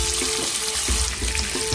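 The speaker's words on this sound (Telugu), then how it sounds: "ఇందులోని ఆయిల్ వేడైంది, గుడ్లు వేద్దాము." Eggs frying in hot oil coloured with turmeric, giving a steady, dense sizzle throughout with faint low knocks from the pan.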